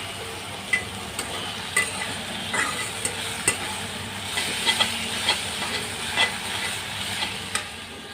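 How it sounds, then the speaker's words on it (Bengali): Greens frying in oil in a pan, stirred to make a shak bhaji; a continuous sizzling hiss broken by regular sharp scrapes and clicks of the spatula, close up and alone. "তো এখন একটু তেলের মধ্যে নাড়াচাড়া করে নিব"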